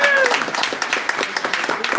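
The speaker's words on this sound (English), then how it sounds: "Let's give her a round of applause, everyone" People at a village board of trustees meeting clap for a newly sworn-in village secretary, a small room's worth of brisk uneven claps, fairly close, with a voice speaking briefly at the start.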